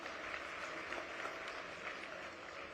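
Steady applause from an audience, a dense even patter of many hands clapping throughout, at a moderate distance.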